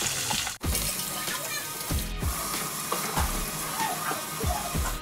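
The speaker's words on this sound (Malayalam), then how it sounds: "നമുക്കിതിലേക്ക് കുറച്ച് കറിവേപ്പില ഇട്ട് കൊടുക്കാം. നമുക്ക് ക്രഷ് ചെയ്ത് വെച്ചേക്കുന്ന ഇഞ്ചിയും വെളുത്തുള്ളിയും കൂടി ഇട്ട് കൊടുക്കാം." Curry leaves with crushed ginger and garlic crackle and sizzle in hot oil for an Onam vegetable dish, a dense spitting hiss broken by a couple of brief pops and clatters nearby.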